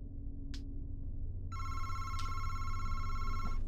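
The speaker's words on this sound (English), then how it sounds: "There's a phone?" A telephone rings in the VR horror game MADiSON VR, its electronic bell tones repeating over a steady low ambient drone, fairly far off, with no talking.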